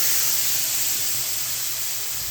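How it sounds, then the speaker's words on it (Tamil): Chutney poured into hot tempering oil with curry leaves, dried red chilli and asafoetida gives a steady loud sizzling hiss that fills the short clip without pause. "இப்போது சட்னி அதில் ஊற்றிடலாம்."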